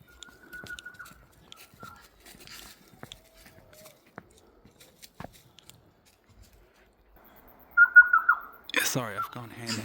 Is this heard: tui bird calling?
yes